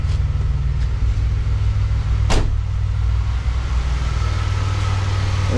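A car engine idles steadily after a repair for a surging, rough idle and stalling fault, a constant low rumble that stays level and close, with a brief click partway through and no talk.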